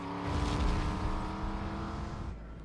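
Car engine roaring in a film chase scene as the vehicle reverses and speeds off across a bridge, a loud revving surge that holds then fades slightly toward the end, with no speech.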